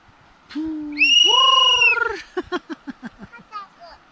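A whistle blows a steady tone, then a long high note, followed by a quick series of short, evenly spaced toots.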